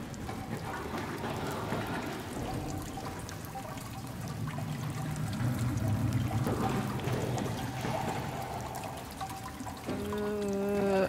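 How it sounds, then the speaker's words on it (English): A blood shower pouring in SOMA, a steady splashing torrent of liquid falling and trickling continuously, close and full, with a low eerie tone joining near the end. "This blood shower."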